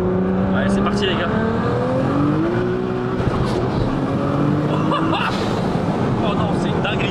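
A tuned 1,000 hp Nissan GT-R LBW engine drones steadily and rises in pitch as it revs, with voices talking loudly over it close by.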